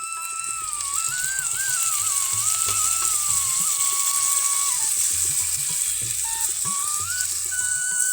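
Ginger and garlic paste hits browned onions in hot oil, producing a continuous close sizzle with rapid ratchety crackling, while a thin wavering whistle drifts above it.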